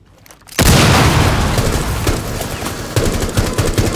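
A deployed breaching charge goes off in Rainbow Six Siege, bursting abruptly after a short quiet lead-in into a loud, close blast that rumbles on, followed by crackling debris and gunfire.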